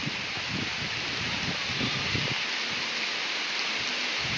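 A sudden, out-of-season downpour patters over farm fields in a dense, continuous wash, with scattered heavier drops and rustling hits early on, steady and fairly close, no speech.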